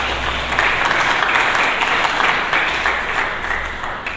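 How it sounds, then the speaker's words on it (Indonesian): A church congregation applauds together in a sustained, fairly loud wash of clapping that holds steady for several seconds, fading slightly toward the end. "Berikan tepuk tangan bagi Yesus."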